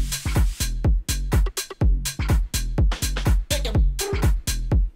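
A tech house track pumps with a punchy four-on-the-floor kick and EQ-automated bass, the bass filtered out and then brought in, over bright percussion and synth layers, loud and steady.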